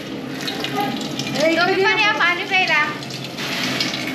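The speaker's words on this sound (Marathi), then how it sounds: "आता तिकडे अंजली वगैरे सगळे पाणी वगैरे भरतात आहेत" Water runs from a tap into a container at a birthday gathering, a steady gushing flow with rising bubbling as it fills, close and fairly loud.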